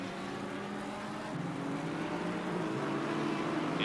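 Race cars at the Nürburgring in Assetto Corsa Competizione drone with steady engine noise, several cars close together holding a constant roar with slight pitch shifts and no talking.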